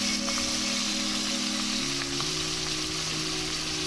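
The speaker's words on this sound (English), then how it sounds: "into the Dutch oven goes some ghee, and we're going to sear it" Meat sears in ghee inside a Dutch oven, a steady close crackling sizzle that continues evenly throughout, with a faint low hum running underneath.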